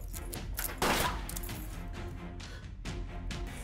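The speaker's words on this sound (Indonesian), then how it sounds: "tiba-tiba polisi tersadar dan langsung menembak Boknam" Police open fire in a film scene, sharp gunshot bursts cracking over a busy dramatic soundtrack, one especially loud hit near the start and another burst toward the end.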